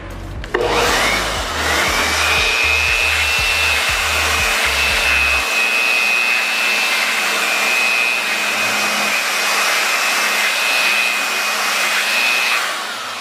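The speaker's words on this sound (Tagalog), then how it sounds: "Yun po yung hot air na bibigay po yan para matuyo po agad ang ating board chips ng video card" A hot air blower runs steadily close by, drying the board chips of a video card during repair, a constant loud whoosh with a high whine, after some brief low knocks at the start.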